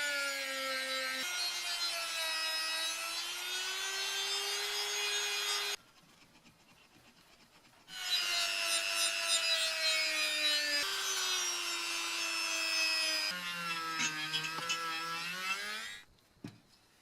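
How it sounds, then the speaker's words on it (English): A rotary tool with small buffing wheels polishes the body of a 60-year-old French-made Moulinette food mincer. It gives a steady, close, high-pitched whine that drifts in pitch, stops briefly partway through, then resumes. No one speaks. "I can polish the main body inside and out, using the rotary tool and the small buffing wheels"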